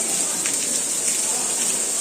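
Heavy rain falls steadily in a dense, continuous hiss with a constant, fairly loud wash of noise and no break.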